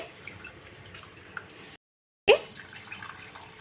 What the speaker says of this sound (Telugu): ఇందులోనే ఒక లీటర్ నీళ్ళు అయితే వేసుకోండి